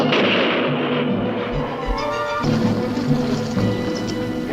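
Gunfire aimed at a monster in a 1958 science-fiction film, heard as a dense, continuous roar of shots with a booming low end, loud and unbroken throughout the whole stretch.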